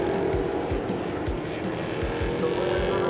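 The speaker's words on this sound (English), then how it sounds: "There goes the number 54 car." NASCAR race cars at the wet Most circuit in the Czech Republic, engines droning steadily with several quick whooshing passes as cars speed by on the rain-soaked track, loud and continuous.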